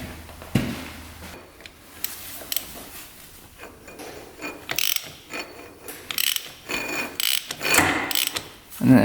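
Ratchet wrench turning on a Honda TRX 700cc ATV, close clicking pawl bursts in short repeated strokes with pauses between, some scraping metal knocks mixed in.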